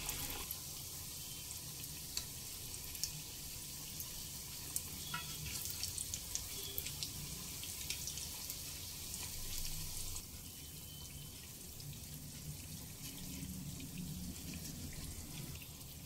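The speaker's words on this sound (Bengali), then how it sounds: "লো মিডিয়ামের মাঝামাঝি রেখে খাঁচাগুলো ভেজে নিতে হবে।" Khaja pastries deep-frying in hot oil over low-medium heat, a steady soft sizzle and bubbling running throughout with faint scattered crackles, no voices.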